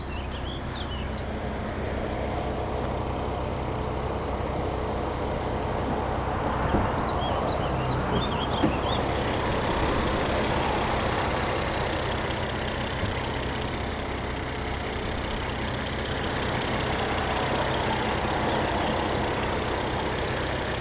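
A 2021 Range Rover Velar P340 with an inline-six engine idles in a smooth, steady low rumble that holds constant and close throughout, with a few faint clicks over it.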